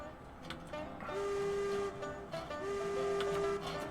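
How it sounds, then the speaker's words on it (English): Two long, steady train horn blasts sound in the Railroads Online video game, separated by a short gap, over a low rumbling background. "Give us 2 long honks."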